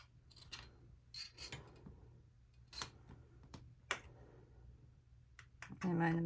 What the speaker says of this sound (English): first I just want to cut my pieces